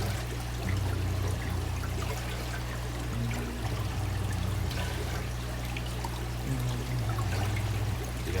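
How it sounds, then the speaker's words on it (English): Water pours into an empty container in a steady, continuous splashing stream with no pauses, over a low constant hum. "We're gonna fill a little bit of this with water so we can capture the fish in here."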